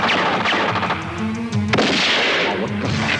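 Gunfire from the 1998 Filipino theatrical trailer for Sugat sa Puri: sharp, loud bursts cut through a dense, continuous soundtrack, with one especially strong crack near the end.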